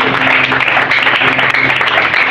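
A church congregation claps together in a dense, steady burst of applause, loud and close, lasting a couple of seconds without a break.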